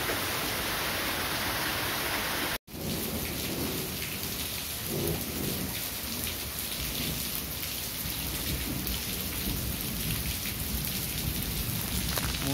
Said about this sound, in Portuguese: Muita chuva aqui.